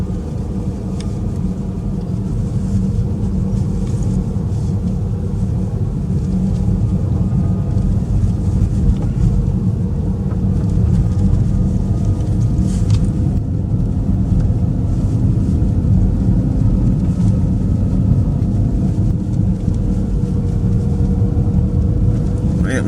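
A car climbs a steep countryside hill toward a farm, its engine a steady low rumble mixed with wind buffeting across the whole stretch, with no talking.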